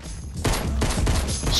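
A blue sniper rifle fires in a Fortnite match, a loud sharp crack landing partway through, set against constant dense game noise and bursts of other shooting.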